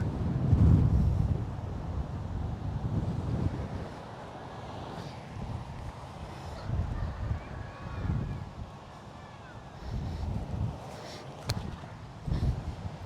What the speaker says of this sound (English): the wind is really kicking up